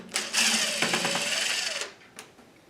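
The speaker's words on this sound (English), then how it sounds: "let's see what happens if I pull out those screws." Screws being removed from a computer hard drive cover: a loud, close whirring burst lasting about a second and a half, followed by a brief click after a short pause.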